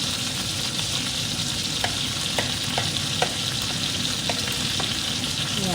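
Onion, garlic and chili sauté in hot oil in a pan for Bicol Express, making a loud, dense, continuous sizzle with a few faint spoon taps in the background and no voices.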